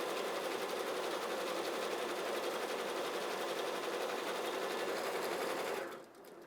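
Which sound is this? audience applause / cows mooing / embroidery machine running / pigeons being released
embroidery machine running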